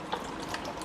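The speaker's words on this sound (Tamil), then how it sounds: "நம்ம வேணுங்கிற அளவு தண்ணி ஊற்றிக்கலாம்." Water is poured into a pot of kalyana rasam, a brief, close, liquid trickle with a couple of soft splashes.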